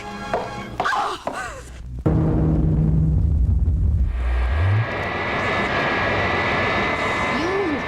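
Wonder Woman's invisible plane in a 1977 audio drama: a few thumps and bits of voice, then a loud steady aircraft engine drone sets in and carries on to the end, with a rising whine near the close.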